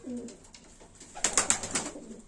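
Pigeons in a loft coo softly nearby, a few low throaty calls followed by a brief flutter of sharper bird sounds.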